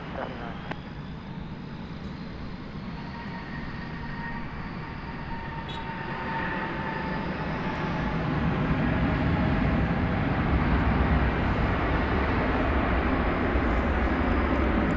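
An American Airlines Airbus A320 arriving at DFW at night from Pensacola, its engine rumble building from faint to moderately loud over about fifteen seconds, with a faint whine drifting across.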